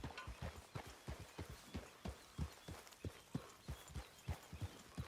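A horse walks on a hard surface, its hooves clip-clopping in a steady, even rhythm close by, with no voices over it.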